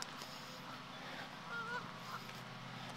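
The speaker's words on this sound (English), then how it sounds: "Too many geese though." Geese honk faintly in the distance, a couple of short calls over low outdoor ambience without speech.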